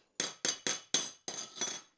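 Metal tubes from a ten-tier shoe rack clink against each other six times in quick succession. The sharp, bright knocks are close and fairly quiet, with no talking.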